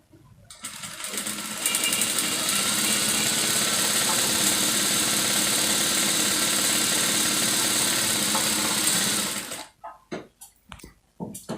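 A sewing machine runs continuously for about eight seconds, stitching the neckline of a lace bustier top, a steady close mechanical whir that stops abruptly, followed by a few light handling knocks.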